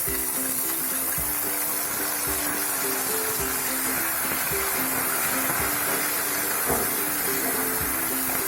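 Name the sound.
chopped tomatoes added to a hot pan for egg curry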